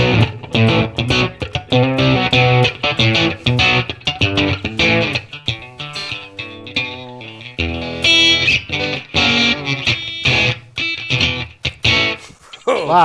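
Heavily distorted electric guitar through a BIAS Amp Designer amp model, with loud, dense chugging chords and sustained riffs filling the whole passage.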